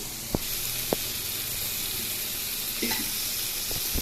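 Crab fry being stirred in a pan, with a steady close sizzle of frying and a couple of sharp spatula clinks against the pan.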